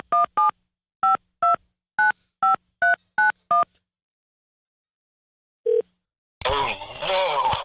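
A telephone number is keyed in as a quick run of nine close, clear touch-tone beeps. A single tone sounds after a pause, then a burst of noisy line sound follows.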